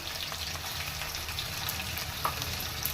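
Green chillies and ginger garlic paste fry in hot oil for a mutton paya curry, giving a steady, close crackling sizzle with faint stirring underneath.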